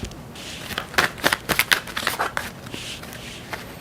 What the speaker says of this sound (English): I shuffled again